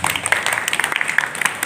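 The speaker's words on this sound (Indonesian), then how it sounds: "Tepuk tangan dong untuk kita semuanya dong." Indoor audience at a pantomime theatre tribute event claps together, a brisk, fairly loud patter of many hands with distinct individual claps audible throughout the short burst.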